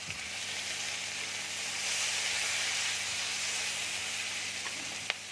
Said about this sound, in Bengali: দেখো তেল গরম হয়ে গেছে, এবার আমি পেঁয়াজটা দিয়ে দিচ্ছি।